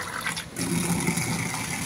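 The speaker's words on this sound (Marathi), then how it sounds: "एवढं डाळीमध्ये पाणी घातलं" Water pours into washed lentils in a cooking pot, a short steady gush of liquid that continues evenly for a couple of seconds after a brief dip.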